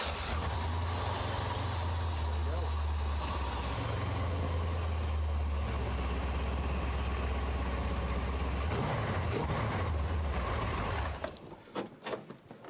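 A car engine fed by Quick Fuel Technology QFI fuel injection runs as a loud, steady idle with a deep low rumble, close by and continuous, then cuts off abruptly near the end, leaving a few faint clatters.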